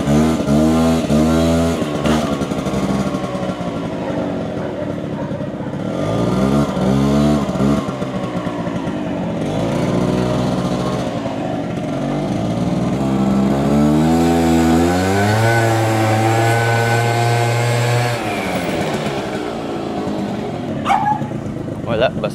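A 1998 Honda Dio AF18 50cc two-stroke scooter engine revs repeatedly, its buzzing pitch climbing and falling in several sweeps and then holding a steady high drone, close and loud, with someone talking over it.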